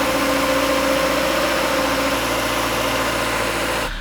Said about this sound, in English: at least engine sounds good